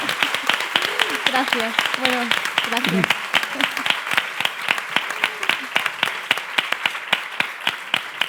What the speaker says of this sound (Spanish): La vamos a despedir con un fuerte aplauso